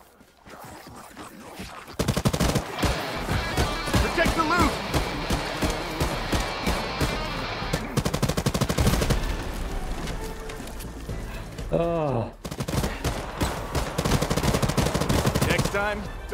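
Gunfire in the video game Hawked: after a quiet start, loud rapid bursts of automatic fire pound almost nonstop, break briefly near the end, then resume hard, with faint voice underneath.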